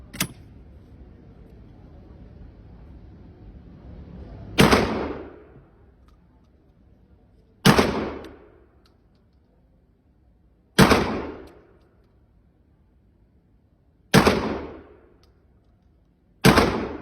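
Five loud 12 gauge shotgun blasts at a shooting range, spaced about three seconds apart. Each sharp crack is followed by a decaying echo that fades into quiet between shots.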